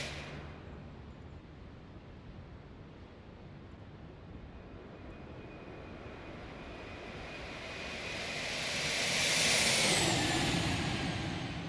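Aircraft engine in the X-Plane 12 flight simulator, a steady droning whine that swells louder toward the end as if the plane passes close, then eases slightly, with no voices.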